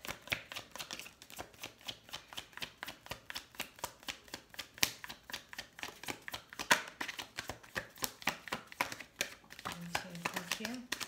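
A deck of tarot cards is shuffled in a steady, rhythmic run of crisp flicks and taps lasting several seconds, close and moderately quiet, with a soft low hum entering near the end.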